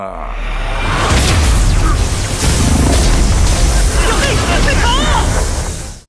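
A massive explosion erupts in an animated Chinese cultivation fantasy story, a loud, sustained roaring blast that rumbles for several seconds before cutting off abruptly.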